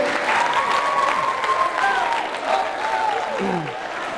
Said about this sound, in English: Round of applause for this person right here.